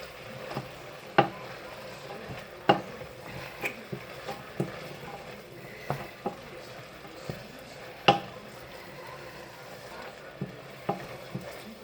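A spoon scrapes and knocks against a pot while chili is stirred, giving sharp periodic clinks over a steady low simmering hiss, close and alone.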